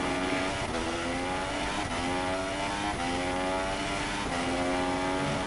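Formula race car engine in a sim racing game at Bahrain, a loud continuous high-revving whine with repeated upshifts and downshifts as the car brakes and accelerates through a sequence of corners.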